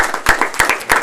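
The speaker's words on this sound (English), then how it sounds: "please give him a big applause" A small audience claps in welcome for a guest speaker, a short close burst of uneven individual hand claps with distinct sharp strikes.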